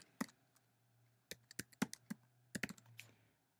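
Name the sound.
typing a URL on a computer keyboard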